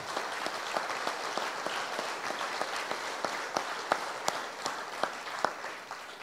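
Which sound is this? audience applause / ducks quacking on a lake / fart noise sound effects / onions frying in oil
audience applause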